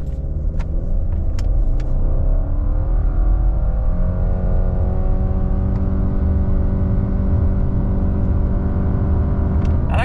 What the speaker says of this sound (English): 0 to 60 in the Legacy, traction's off, brake drive on.